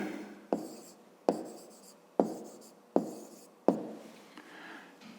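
A pen writes out a grade-five maths solution on paper, with five sharp taps spaced about a second apart, each followed by a short scratchy stroke, close and fairly quiet.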